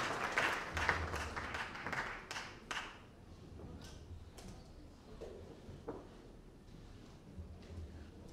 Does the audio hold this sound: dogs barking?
no